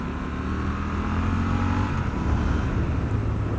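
Triumph Scrambler 1200 XE motorcycle engine heard from the rider's position, a steady loud rumble with slight revving and wind rush as the rider blip shifts, no speech.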